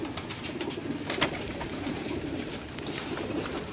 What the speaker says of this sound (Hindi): लाल आंखों वाले कबूतर है हमारे